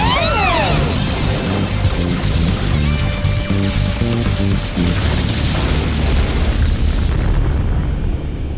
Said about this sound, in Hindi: micro missile storm gun fire